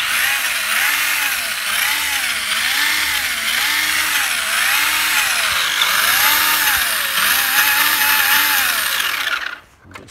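A steering servo on a 1988 Tamiya Avante RC car whirs back and forth in repeated rising and falling sweeps, close and continuous, then stops abruptly at the end.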